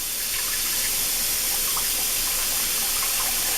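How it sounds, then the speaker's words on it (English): Water runs from a bathroom tap into a sink as a steady, close rushing hiss that holds evenly from start to finish, with no one talking. "they would also run the water like this, and they just stick their hand into it"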